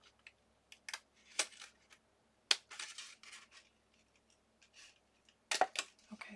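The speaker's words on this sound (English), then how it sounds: "I'm just going to go in with my scissors and finish cleaning it up." Scissors trim craft paper in short, scattered snips and crisp cuts, close and fairly quiet, with brief rustles between them and no one speaking.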